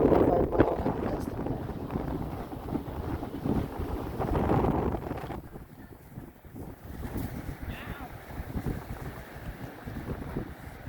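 Strong wind blows across a beach by the Santa Monica Pier, buffeting the microphone in heavy, uneven gusts over a continuous roar of surf, easing briefly partway through before building again.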